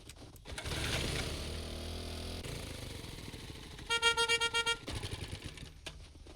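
A vehicle horn honks in the game 7 Days to Die, several short rhythmic bursts over a steady engine rumble.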